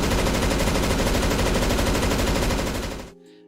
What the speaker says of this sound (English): They've also changed the firing sound of the M249 pretty dramatically.